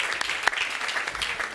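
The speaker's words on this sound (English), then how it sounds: "let's give Kai a round of applause for his program" A small audience applauds after an evening history lecture on the Laguna Beach lifeguards, a steady patter of many hands at moderate distance, fairly soft and even throughout.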